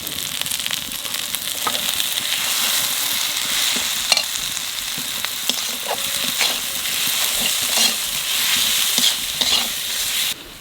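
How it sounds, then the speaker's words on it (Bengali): Mutton with salt, turmeric and spices frying in a pan while being stirred, a steady close sizzle broken by repeated scraping strokes of the spoon, with no talking. "মশলা ভালো করে কষায় নিচ্ছি"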